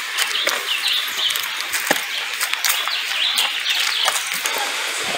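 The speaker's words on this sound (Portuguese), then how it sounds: "Olha os passarinhos cantando." Birds chirp and twitter in bursts against a steady outdoor hiss at Cachoeira da Janjana waterfall in Nova Iguaçu, Brazil, several calls overlapping at moderate distance.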